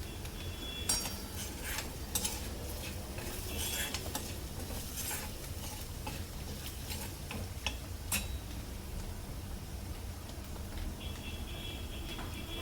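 Gram leaves going into a pot of cooked lentils, with a utensil stirring and clinking against the metal pot in scattered, irregular ticks and taps over a low background hum.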